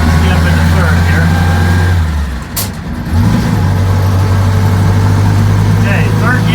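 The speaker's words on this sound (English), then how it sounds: "Jump into third here." A 1948 Crosley CoBra wagon's small engine drones loudly at close range, dips briefly as the driver shifts into third gear, then picks back up to a steady hum, with talking over it.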